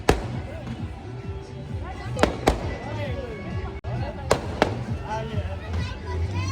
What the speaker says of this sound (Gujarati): હવે ફટાકડા ફૂટવાના ચાલુ થઈ ગયા છે.